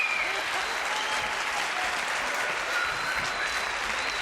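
Audience applause for a guest named Marie on a French TV variety show, a dense, steady wash of clapping filling the room from start to finish with no one talking over it.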